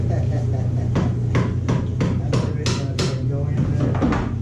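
A series of sharp metallic hammer taps on an engine part, about ten in a steady rhythm, close by over a low mechanical hum.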